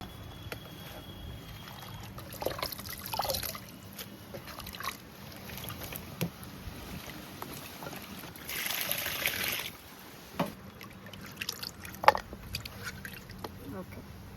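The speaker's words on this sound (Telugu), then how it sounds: "డ్రై ఫిష్ కడుక్కోవటం కంప్లీట్ అయిపోయిందండి. అలాగే గోంగూర కూడా అండి 2 సార్లు శుభ్రంగా కడిగానండి." Dry fish and gongura leaves being washed in water for a pickle, with splashing, trickling and sloshing through the clip and a louder burst of pouring water near the middle.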